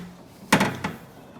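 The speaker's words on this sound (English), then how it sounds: "First thing we have to do is unlock this door." The door of a 1970 Buick Riviera gives a sharp metallic clack from the latch, then a couple of rattling knocks and creaks as it swings open, close and loud with no talk.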